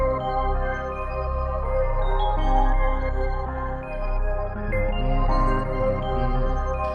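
A chopped vocal sample loops over and over inside a catchy beat. The sliced syllables repeat in a steady rhythm above bass and drums, and no one speaks.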